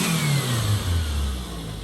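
Car engine with a faulty old turbo revs hard and loud up close, a rough low roar that sags slightly toward the end, with no talking.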